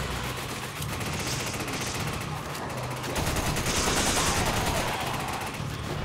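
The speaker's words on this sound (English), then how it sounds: "Dude, what are you shooting? Stop shooting!" Video game gunfire from Resident Evil 5 rattles through rapid, dense bursts of shots layered over game sound effects and music, loud and continuous for the whole stretch.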